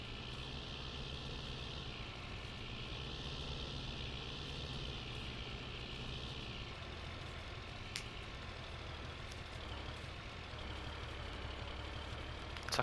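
A John Deere tractor pulling a 9-meter-wide mower in a farming game, its engine a steady, low, fairly quiet drone that holds constant with no talking.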